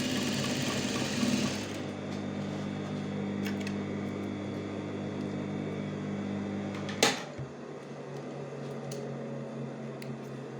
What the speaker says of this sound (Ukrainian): Прикладаємо її відкритими срізами та настрочуємо.